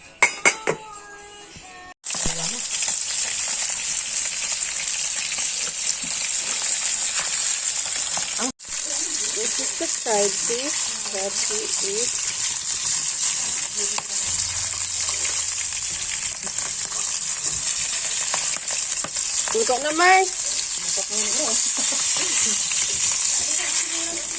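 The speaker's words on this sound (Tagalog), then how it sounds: "Kumukulo-kulo na, guys, yung ating canola." Canola oil boiling and frying in a home kitchen pan, a steady broadband sizzle running throughout with occasional clinks of cookware, while people talk over it.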